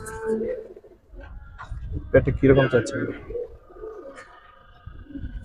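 Giribaz pigeons coo on a rooftop in short throaty bursts, loudest mid-clip, mixed with someone talking close by.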